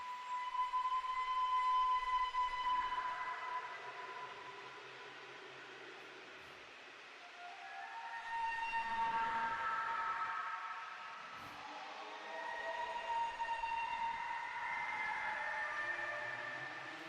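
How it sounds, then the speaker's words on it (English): A screeching tree creature in a Roblox game lets out long, wavering, high-pitched wails that rise and fall in several swells, echoing eerily over a low rumble with no talking. "Yeah, that's definitely the screeching tree creature. It does not sound like an elk or a wolf."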